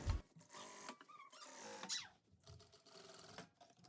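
A sewing machine stitches fabric for a dress, sewn at a long stitch length of 5 for gathering. Quiet, uneven mechanical whirring and clicking comes in short runs with brief pauses, and no one speaks.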